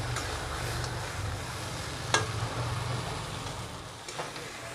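Taro stems sautéing in a pan for a Bengali prawn curry, giving a soft steady sizzle with an occasional faint scrape of stirring, quiet and without talk.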